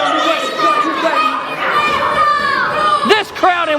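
Crowd at a wrestling show in Whitesville, West Virginia, with a dense clamour of children's shouts and excited chatter that carries on steadily, plus a couple of sharp yells near the end.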